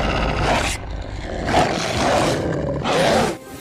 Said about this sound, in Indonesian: tiba-tiba saja ada seekor serigala yang sedang marah padanya